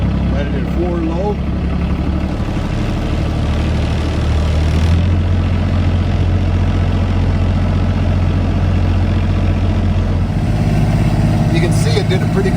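A snow plow truck's engine runs in four-wheel-drive low, a steady, loud, low rumbling drone throughout, with a voice talking over it.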